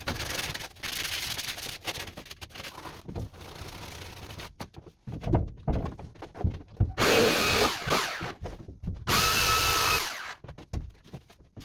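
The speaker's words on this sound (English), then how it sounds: "all this sanding, but it's got to be done." A belt sander works over a homemade wooden fishing boat in close, rough bursts of abrasive rubbing that stop and restart with short pauses between passes.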